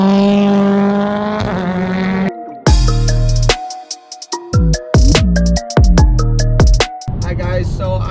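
A BTCC hybrid race car on its first proper test run at Donington Park revs close and loud, its engine note climbing in pitch, then breaking into choppy bursts with abrupt cut-outs and restarts.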